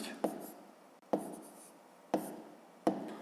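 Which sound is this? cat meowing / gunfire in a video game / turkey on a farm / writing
writing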